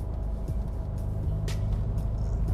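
A 1980s Toyota Celica RA60 with a non-stock aftermarket exhaust idles steadily close by, its deep, rumbling drone throaty and loud, with a brief hiss partway through.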